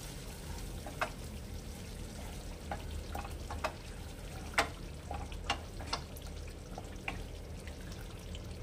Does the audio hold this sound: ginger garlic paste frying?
yes